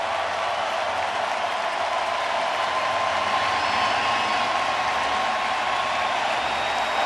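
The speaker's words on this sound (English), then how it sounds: "Framber Valdez going to get a great show of appreciation from this sellout crowd" A sellout baseball crowd applauds pitcher Framber Valdez, steady, dense clapping and cheering that stays at an even level throughout with a faint tone running underneath.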